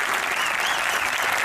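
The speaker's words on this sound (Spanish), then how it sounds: "vamos a darle un gran aplauso al doctor Zaffaroni" A brief, dense burst of applause from a crowd at a public gathering in La Plata honoring Dr. Zaffaroni, many hands clapping together, fairly close and continuous.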